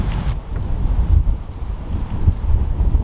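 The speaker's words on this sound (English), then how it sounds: "got really windy" Strong gusts of wind on a homestead buffet the microphone, a loud, rumbling low roar that surges and dips without pause.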